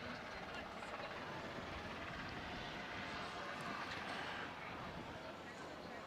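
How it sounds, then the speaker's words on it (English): Helicopters flying overhead near a sailing race starting line, a steady broadband rotor and engine rumble that fills the scene continuously at moderate loudness, with faint voices mixed in. "Hopefully those helicopters aren't actually kicking all the breeze out of here."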